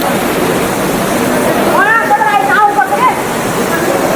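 Patale Chhango waterfall water pours in a steady, broad rushing roar that fills the whole stretch, with a voice rising briefly over it midway.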